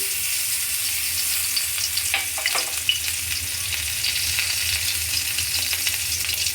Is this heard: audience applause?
no